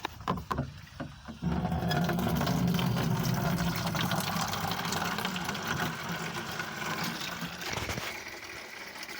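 Water rushing from a stretched-out garden hose into a container outdoors, a steady, loud gushing hiss that begins after a brief clatter and runs continuously.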